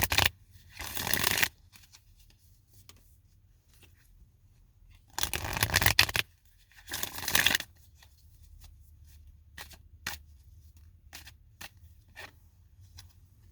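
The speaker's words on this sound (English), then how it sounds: "So let's just get a good shuffle here going on." Tarot cards are shuffled by hand close up, in a few separate dry, rustling bursts of riffling with quiet gaps and light card taps in between.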